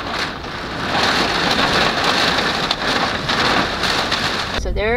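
Heavy rain pours steadily in a dense hiss during a thunderstorm at a campground beneath Devils Tower, with low storm rumble underneath and a brief bird call at the very end.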